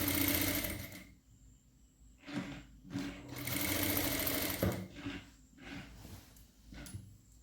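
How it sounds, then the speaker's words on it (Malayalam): An electric sewing machine stitches kurti lining in several bursts, a close whirring motor with rapid needle clatter that stops and restarts between short pauses. "ഉള്ളിൽ വെച്ചിട്ട് നമ്മൾ ലൈനിങ് സ്റ്റിച്ച് ചെയ്തെടുക്കാൻ പോവാണ്."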